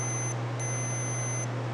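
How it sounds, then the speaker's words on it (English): A continuity tester beeps as its probe touches lawn mower ignition wires, a high electronic tone sounding in two close-up bursts over a steady low hum. "when I touch it to this, you'll hear it beep"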